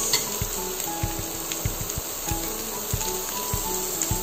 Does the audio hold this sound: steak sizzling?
yes